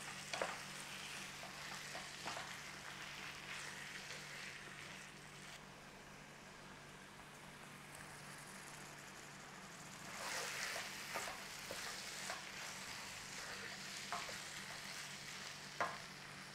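Frozen peas being stirred through frying beef keema in a pan, with a steady soft sizzle and scattered scraping stir strokes, a louder burst of activity near the end, and no talking.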